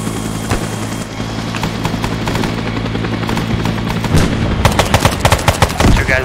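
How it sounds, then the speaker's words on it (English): Enemy gunfire in a video game crackles in rapid bursts and scattered single shots, growing denser and louder toward the end, heard alone over a steady mechanical background. "They're shooting us already"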